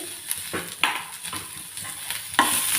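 Ginger, green chili and garlic frying in a hot pan, a continuous sizzle broken by several short stirring scrapes and clinks, close and without speech.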